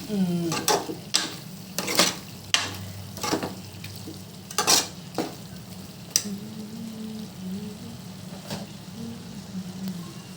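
Curry made with hyacinth beans frying in a pan while a spoon stirs it, with repeated sharp scrapes and clinks over a steady sizzle.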